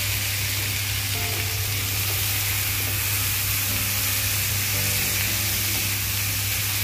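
Onions frying in a pan for dhaba-style garlic methi hiss in a dense, unbroken sizzle, loud and close, with a low steady hum beneath and no talking.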